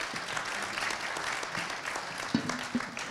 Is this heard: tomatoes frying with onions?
no